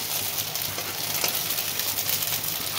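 Paneer fritters being turned in a wok with a little oil give a dense, continuous sizzle close by, with faint scraping stirs of a spatula.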